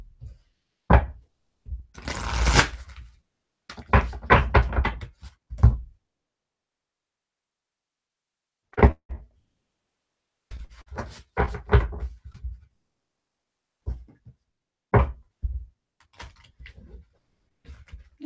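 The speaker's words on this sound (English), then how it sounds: "new cards aren't the easiest to shuffle" A new tarot deck being shuffled by hand, giving bursts of card riffling and tapping with irregular pauses between handfuls, close and fairly quiet.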